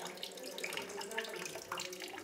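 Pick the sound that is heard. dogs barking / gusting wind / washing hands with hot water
washing hands with hot water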